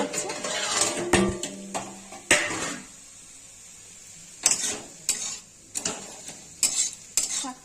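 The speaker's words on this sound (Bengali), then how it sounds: "ঢাকনাটা খুলে দেখাচ্ছি।" A cooking-pot lid clatters and scrapes as it is lifted off a pot of simmering bathua greens in a home kitchen, with several sharp metallic clinks and knocks spread over a few seconds and quiet gaps between them.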